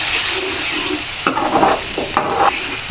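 Chickpeas for Lahori chikar cholay being stirred in a pan with chicken gravy, steady close frying sizzle with scraping spoon strokes, no talk.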